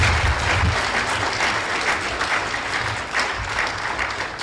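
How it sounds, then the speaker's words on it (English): An audience at a formal education ceremony claps loudly and continuously, a dense, even burst of applause with no voices over it. "So let us give a massive round of applause"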